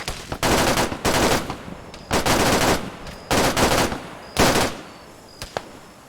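Heavy automatic gunfire in the military game ARMA 3, several loud sustained bursts of machine-gun fire with short gaps, ending in a couple of single shots.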